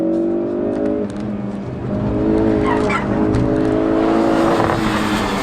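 A 2016 Ford Focus RS launches hard on a track using launch mode, its engine loud and close, revving up with a rising note as the tires squeal and grip.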